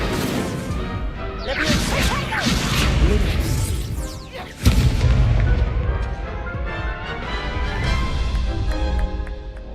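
Hogwarts Legacy Incendio fire spell, a loud whooshing burst followed by a heavy crashing impact midway, with roaring, crackling rumble continuing afterward.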